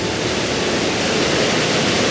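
Waterfall and rapids with heavy water flow produce a loud, steady, broadband rushing roar, close and continuous, with no voices.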